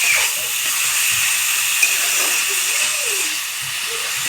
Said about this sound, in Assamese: আলুখিনি এনেদৰে মই ভাজি ল'লোঁ অলপ।